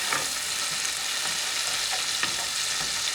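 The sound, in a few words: tomatoes and garlic frying in a pan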